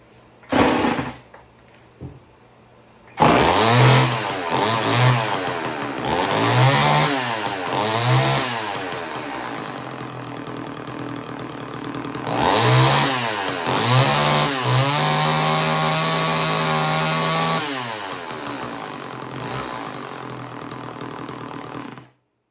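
A chainsaw engine starts and runs close by, revving up and down repeatedly before settling into a steady idle, then cutting off at the end.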